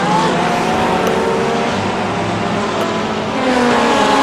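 Hypercars race past at Sebring in a racing video game, their loud, dense engine roar rising and layering with faint tire squeal.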